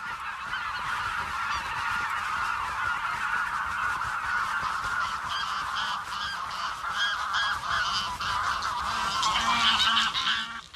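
A flock of greylag geese honks repeatedly in loud, overlapping nasal calls that stay close and busy throughout, growing denser toward the end, with no one talking.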